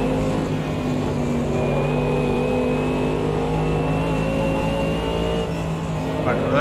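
Mercedes AMG GT3 race car engine at Mount Panorama in Automobilista 2, a loud, steady, sustained drone with a gently shifting pitch, carrying on without a break the whole time.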